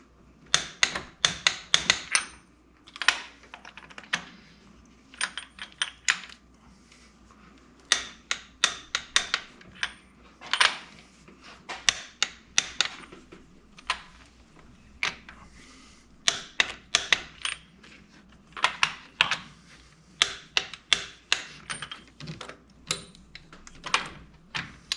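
A ratcheting wrench clicks in repeated quick bursts as diesel injectors on a Dodge Cummins engine are tightened to 44 foot-pounds with a torque wrench. The sharp, close clicks come in rhythmic clusters separated by short pauses, with no talking.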